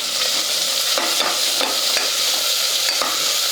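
Ginger garlic paste and curry leaves frying with onions in a pan for a rice bath, a loud steady sizzle with repeated spatula scrapes throughout and no talking.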